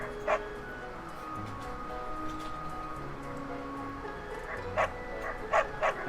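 A dog in Fire Emblem: Three Houses gives a few short yipping barks while it is being petted, arriving as separate bursts over a steady game-music background.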